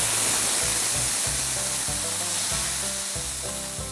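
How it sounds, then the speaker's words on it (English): Julienned potatoes frying crisp in a pan of hot oil, a loud dense hissing sizzle that holds steady throughout with no talk. "I've taken 2 medium-sized potatoes, cut them into julienne, and now we're going to fry these crisp"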